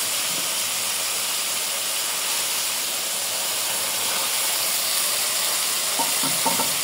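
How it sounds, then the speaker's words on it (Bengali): Okra drops into hot oil with frying spices, producing a loud, steady sizzling hiss that fills the whole stretch, with a few faint clinks near the end and no voices. "এখন ভেন্ডিগুলো দিয়ে দেবো।"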